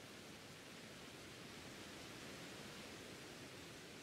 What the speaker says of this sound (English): It do be raining.